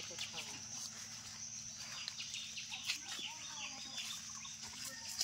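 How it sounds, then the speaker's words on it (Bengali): Chickens cluck and chatter close by in a steady, busy stream of short calls, with faint outdoor background noise. "এই দেখ মুরগিগুলো কোথায় এসছে রে।"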